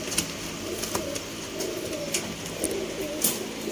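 A golden pair of Sialkoti pigeons cooing nearby in soft, rounded repeated calls, with faint background noise and no talk.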